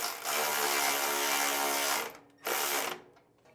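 A 3/8 wrench ratcheting bolts down on a no-drill flap mount, a close, dense clicking run for about two seconds, a pause, then a shorter burst.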